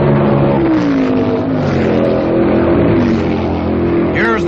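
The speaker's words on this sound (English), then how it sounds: "Hume is really pushing it, blasting his way into an echo chamber called Thunder Valley." 1967 Can-Am race cars, led by Denny Hulme pushing hard, roar past through a valley section of the track, a loud sustained engine blare with a rising whine near the end, heard under a narrator's voice.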